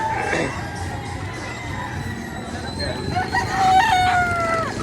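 Roosters crow repeatedly at a busy poultry market in Padre Garcia, Batangas, their drawn-out calls rising over a steady crowd murmur, with one loud close crow near the end.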